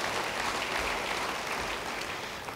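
A church congregation applauding steadily, dense continuous clapping at even loudness from start to finish.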